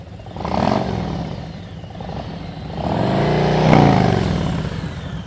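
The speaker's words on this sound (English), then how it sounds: "Right now you're revving." A motorcycle engine revs in two swells during slow-speed riding practice, rising and falling at close range with a mechanical clatter beneath, and no voices heard.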